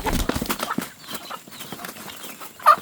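Chickens cluck now and then at close range among scattered shuffling and scratching noises on a farm, with one sharper, louder call near the end.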